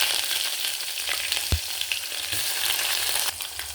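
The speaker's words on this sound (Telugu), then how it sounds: "ఆయిల్ బాగా వేడైన తర్వాత ఒక ఎండుమిర్చి, 1 స్పూన్ తాలింపు గింజలు, 1 స్పూన్ జీలకర్ర వేసి వేగనివ్వాలి." Dried red chilli, tempering seeds and cumin crackling in hot oil for a tempering, a loud, dense sizzle up close with a few sharp pops and stirring knocks, no speech.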